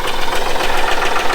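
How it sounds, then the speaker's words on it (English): A farm tractor's engine, just started with a squirt of ether, runs at a steady, rumbling idle, close and loud with an even churning knock and no pauses. "it threw right over, fired right up with one little squirt"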